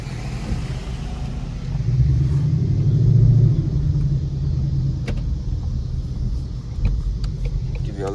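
A 2019 Mustang GT with an X-pipe exhaust driving through city streets, its engine a deep steady rumble that swells briefly as it accelerates, then settles, heard from inside the car.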